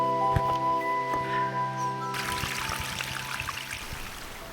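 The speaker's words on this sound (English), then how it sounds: "So here it is, the final wildlife pond with the waterfall." Water trickles and splashes steadily over rocks in a garden wildlife pond waterfall, a continuous close gurgling flow with a faint tonal hum running beneath it.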